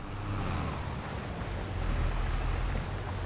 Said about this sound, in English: We either work through the rain, do this ploughing contract, or we just skip it altogether.